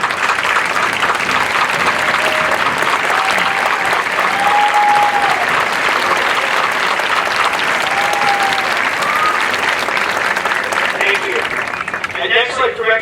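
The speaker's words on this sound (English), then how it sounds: "So can I ask all these great patriots to stand for a round of applause," A high school graduation crowd applauds service members and future recruits in a long, loud, continuous round of clapping with occasional cheers and whistles, voices murmuring underneath before it thins out at the end.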